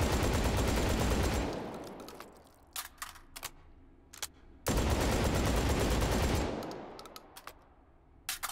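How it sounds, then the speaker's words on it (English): A fictional shotgun fired in the VR game Hot Dogs, Horseshoes & Hand Grenades (H3VR): two long loud blasts of noise that decay gradually, each followed by scattered sharp mechanical clicks and clacks. "I really like this shotgun. It's really nice, even though it's fictional."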